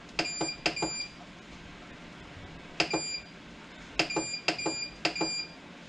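Short electronic beeps from setting the timer on a kitchen appliance come in quick clusters of two to four, sharp and close, separated by pauses of quiet room tone.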